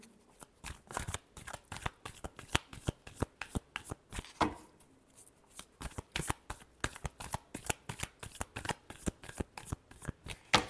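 Tarot cards being shuffled by hand in a fast, steady run of crisp riffling flicks, close and fairly quiet, with a brief pause midway before the rhythm resumes.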